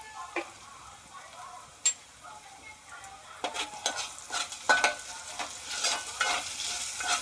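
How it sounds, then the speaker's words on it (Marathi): Onion and tomato frying in oil on a Malvani home stove, a soft steady sizzle with intermittent clicks and scrapes of a spoon stirring the pan, close but quiet. "कांदा आणि टॉमॅटो आपण आहे ना तेलामध्ये चांगला फ्राय करून घेऊया."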